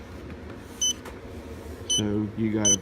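Electronic beeps from an RV LED dimmer switch setup, a couple of short high tone bursts sounding under a man's speech during wiring work.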